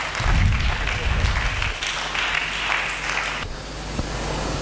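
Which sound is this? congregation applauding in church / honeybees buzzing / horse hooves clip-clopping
congregation applauding in church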